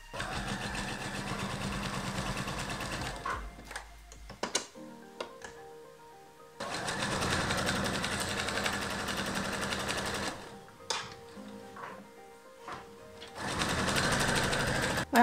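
A domestic sewing machine runs in long steady bursts, stitching lightweight voile fabric for a hair scrunchie, with short pauses and handling clicks between the loud, close, whirring runs.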